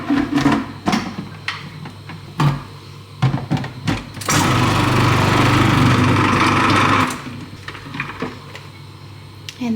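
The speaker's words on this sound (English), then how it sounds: "I'm going to slice up some onion for the sweet potato pizza. For that, I'm going to use the slicing blade again" A food processor with a thin slicing blade whirs as it slices onion for a sweet potato pizza, a loud motor burst lasting about three seconds between clattering handling knocks.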